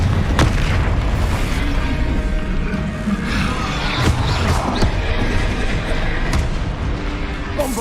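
Bombarda spell blasts in the video game Hogwarts Legacy, several booming explosions with crashing debris amid dense combat noise, loud and continuous.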